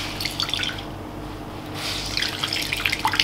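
Grated potato wrung out in cheesecloth for hash browns, water dripping and trickling steadily into a bowl, close and fairly quiet, with a brief lull midway.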